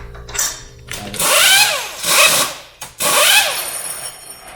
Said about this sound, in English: So I think this is a Harbor Freight actually. Just like little impact.